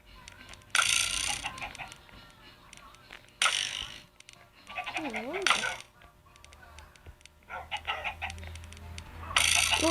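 Chickens clucking in the block-building game Minicraft, short bursts of clucks and squawks alongside clinking game effects, moderately loud with quiet gaps between.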